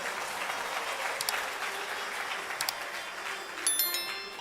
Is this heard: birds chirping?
no